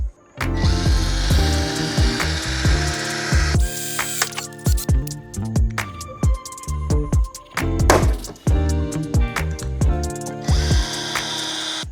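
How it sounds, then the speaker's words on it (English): A power drill whirs in bursts, drilling a rivet hole on a diesel Mercedes, with sharp clicks and knocks between runs, close and fairly loud, no talking. "So now we're gonna drill our hole."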